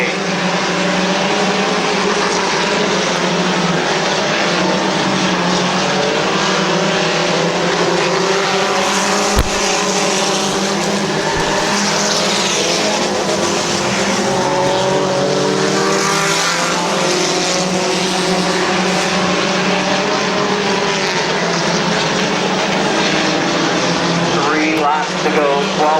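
Race cars battling at Midvale Speedway, a continuous loud roar of several engines rising and falling as they circle, with a commentator's voice running over it throughout.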